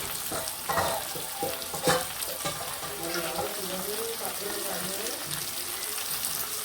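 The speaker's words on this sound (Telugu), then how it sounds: "ముక్కలు కూడా వేసాక ఒకసారి దీన్ని బాగా కలుపుకోవాలండి" Chicken pieces for a Konaseema-style country chicken curry are stirred into hot tempering in a pan, with steady sizzling and frying broken by clattering spoon scrapes and knocks near the start.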